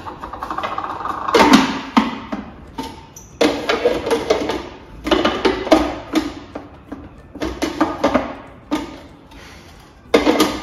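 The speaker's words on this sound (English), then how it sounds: "throw your pecans, walnuts and dark chocolate chips or dark chocolate bar broken up, whatever, into the food processor" Food processor chopping pecans, walnuts and broken dark chocolate, heard as repeated short pulses of loud clattering and grinding, with brief gaps between bursts, close by and without voices.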